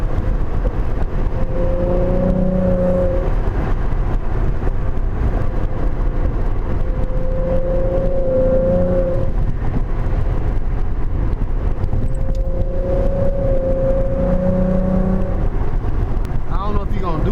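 A catless V6 Ford Mustang accelerates hard, its loud droning exhaust rising and falling in three long pulls heard from inside the car, with people talking over it.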